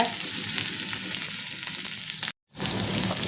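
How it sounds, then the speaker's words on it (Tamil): Oil sizzles and crackles steadily as small onions fry in a pan, with a brief silent gap before the frying noise resumes. "சின்ன வெங்காயம் ரெண்டே ரெண்டு நறுக்கிருக்கேன் அதை இதில் போடுறேங்க"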